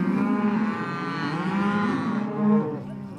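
Cattle moo loudly and repeatedly at close range during branding at a Montana ranch roundup, several long lowing calls following one another with no talk over them.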